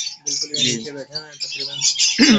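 African lovebirds chirp and squawk in a breeding aviary with double-factor and exhibition mutation birds, a close burst of overlapping high tweets and harsh calls under a voice.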